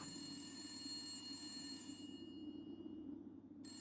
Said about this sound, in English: The phone rings change in tone and quality.